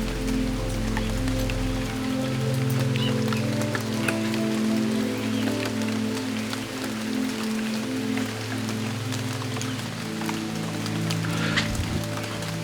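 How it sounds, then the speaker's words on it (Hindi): Steady rain falls in Shangarh, Himachal Pradesh, a dense, continuous patter on surfaces lasting throughout, with a low droning hum underneath and no speech. "यहाँ पे बारिश होने लगी"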